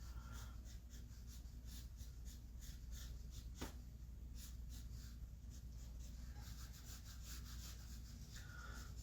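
A pencil sketches on paper in quick, repeated scratchy strokes, faint and close, with short bursts and pauses in an irregular rhythm and no talking.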